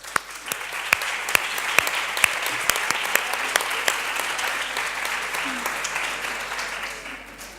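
Audience applause for event organizers at a lecture, a steady dense wash of clapping with sharp individual claps standing out, holding loud for about seven seconds before easing off at the end.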